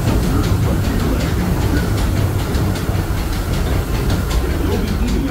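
Disneyland Railroad train rolling steadily on its rails, a loud continuous rumble with rhythmic clickety-clack of wheels over track joints, heard from aboard the car.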